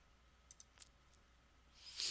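A computer mouse clicks a few times, quick faint taps spread over about a second, with quiet room tone and a brief soft rustle at the end.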